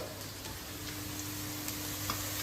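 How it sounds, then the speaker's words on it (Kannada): Onion frying in a pan until brownish, giving a steady close sizzle with a few faint clinks and no voices. "ಒಂದು ಈರುಳ್ಳಿ ಹಾಕ್ತಾ ಇದ್ದೀನಿ ಸ್ವಲ್ಪ ಬ್ರೌನಿಶ್ ಆಗೋವರೆಗೂ ಹುರ್ಕೊಬೇಕು"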